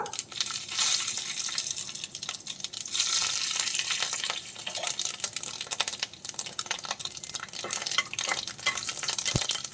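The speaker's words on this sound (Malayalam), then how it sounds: "എണ്ണ ചൂടാകുമ്പോഴേക്കും നമുക്കതിലേക്ക് കടുക് ഇട്ട് കൊടുക്കാം" Mustard seeds and two dried red chillies fry in hot oil for a chow chow thoran, making a dense, steady sizzle peppered with sharp crackling pops close up.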